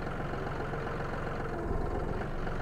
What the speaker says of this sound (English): tractor coming back up